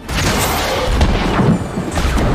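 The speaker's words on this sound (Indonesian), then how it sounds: "helikopter meledak dengan tiba-tiba" Helicopter exploding in the film Extraction, a loud booming blast followed by rumbling crash and debris thuds, dense and close.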